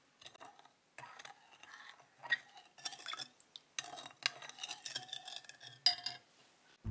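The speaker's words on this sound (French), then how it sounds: "Je mélange." A spoon scrapes and clinks in a bowl, stirring a sauce of rice vinegar, light soy sauce, oyster sauce and water in short, quiet bursts separated by brief pauses.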